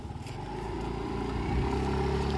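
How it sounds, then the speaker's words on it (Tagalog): Motorcycle engine running steadily on a ride out to a rural farm area, a continuous close low rumble with some clatter throughout. "Meji, you wanna learn how to drive motorcycle?"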